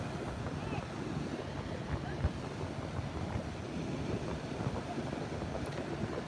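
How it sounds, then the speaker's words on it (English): Wind blows outdoors by the water in a steady, rough, low rumble buffeting the microphone, fairly faint and continuous throughout. "We got some wind today, but it shouldn't last too long."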